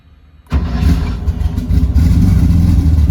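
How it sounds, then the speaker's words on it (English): A Porsche 930 Turbo slant-nose track car engine cranks and catches abruptly after a near-silent moment, then settles into a loud, rumbling idle with some blips of revs, heard up close from inside the car. "Fires right up every time."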